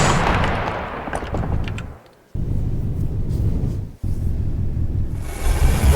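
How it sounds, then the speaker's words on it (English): Asteroids blow apart in the space game Endless Sky, heavy rumbling blasts, loud and sustained, broken by two brief drops to near silence before the booming resumes. "I'm just exploding all these asteroids because I want to"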